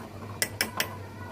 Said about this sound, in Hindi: दूध बॉईल हो चुका है, उसको भी चम्मच से हिलाकर देख लेते हैं